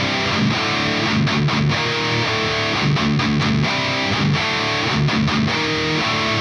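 Heavily distorted electric guitar plays the second riff of a song at a slowed tempo, thick chugging power chords with short rhythmic gaps, loud and close with no talking.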